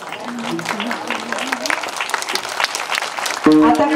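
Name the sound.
audience clapping at a kirtan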